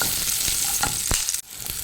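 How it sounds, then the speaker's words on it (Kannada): Garlic and a piece of ginger fry in hot oil in a pan, a close, loud, steady sizzle with a few stirring scrapes and a brief dip near the end. "ಇದನ್ನು ಇವಾಗ ಫ್ರೈ ಮಾಡ್ಕೊಳ್ಬೇಕು."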